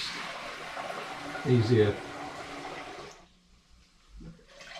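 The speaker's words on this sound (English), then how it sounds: "what I'm going to do is pour it into the pan through the colander first" Home brew Vimto and hops cider splashes briefly as it pours through a colander into a pan, a short gush of liquid followed by quieter trickling, with a voice speaking over it.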